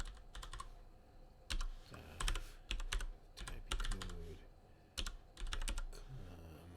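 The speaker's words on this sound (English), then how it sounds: "Type it out." Someone types a web address into code on a computer keyboard, with rapid clattering bursts of keystrokes separated by short pauses, close and fairly loud, with no talking.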